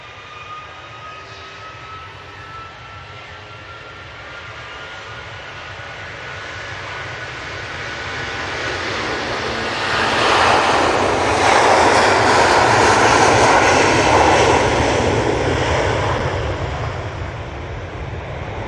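A Qatar Airways airliner roars on the runway at Manchester Airport, its jet engine noise swelling steadily from a distant rumble to a loud, broad roar midway, then easing slightly, with no voices.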